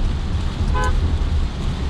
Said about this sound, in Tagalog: parang lagi kang galit pag bumubusina ka